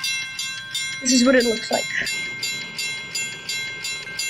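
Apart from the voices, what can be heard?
mechanical railroad crossing bells in Roblox video game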